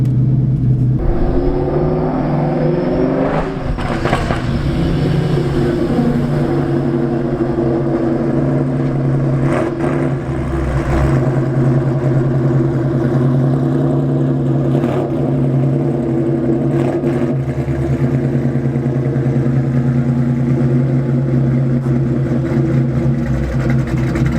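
A Mustang engine with nitrous idles steadily to warm up for a long stretch, holding a low, even hum with a few slight rises in revs and no talking.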